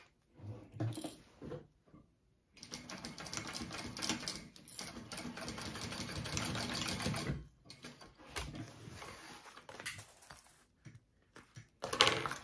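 A sewing machine bastes backpack fabric in several bursts of rapid, rattling stitching, a long run in the middle framed by shorter starts and pauses, close by and moderately quiet.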